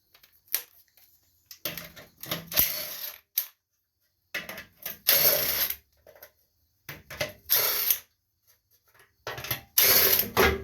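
Ratchet with a 1/2-inch socket working bolts off the engine of an Agri-Fab 6.5 horsepower leaf vac, bursts of clicking and metallic rattling in several separate spells with quiet gaps between.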